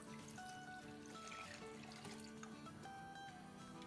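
Five cups of water pour into a pot on the stove for a sweet and sour dal, a faint steady trickling stream under a dense background of other kitchen sounds.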